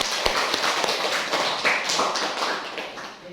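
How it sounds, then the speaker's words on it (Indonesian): Classroom applause for a student group's performance: a burst of dense, even clapping from many hands, fairly close and steady for a few seconds, fading slightly at the end. "Beri tepuk tangan dulu"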